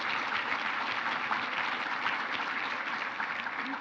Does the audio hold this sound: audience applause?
yes